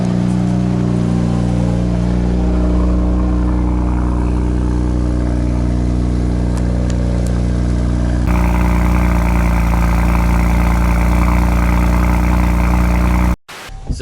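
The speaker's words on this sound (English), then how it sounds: "Cold start." A BMW 135i with the N54 engine and 6-speed idles after a cold start, a steady, loud, low drone that holds alone with no voices and shifts to a slightly higher, brighter note partway through before cutting out at the end.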